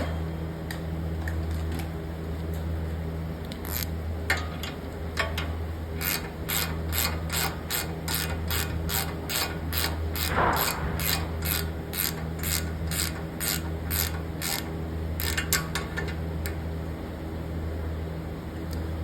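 Ratchet and pawl clicking steadily as a self-locking nut is snugged onto a rear control arm of a 2024 Ford Expedition, a quick run of close, crisp ticks over a low steady hum, no talking.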